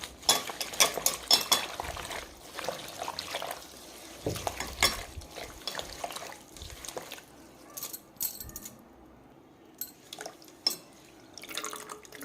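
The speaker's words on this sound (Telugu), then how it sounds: "బాగా కడుక్కోవాలి వాటర్లో వేసేసి" Drumstick leaves are washed in a vessel of water: intermittent splashes and drips, with occasional light clinks of dishes, all close and fairly quiet, separated by brief pauses.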